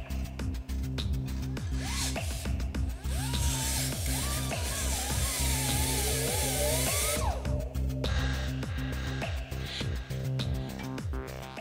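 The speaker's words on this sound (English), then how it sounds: "We're gonna cut the clamp out of the drive shaft" A power tool cuts a clamp off the drive shaft of a Porsche Cayenne or VW Touareg during a support bearing repair, a loud continuous grinding whine with wavering pitch over constant rumbling, then stopping abruptly.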